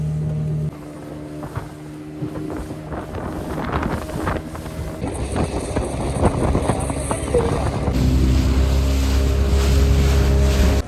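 A motorboat runs across the sea at Dwarka with a continuous engine drone, heavy wind buffeting the microphone and rushing water, loud and close throughout, with voices faintly mixed in.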